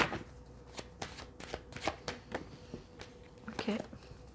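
Tarot cards being shuffled in a run of crisp, rapid riffles and flicks with brief pauses between bursts, fairly close and moderately quiet, with no talking over it.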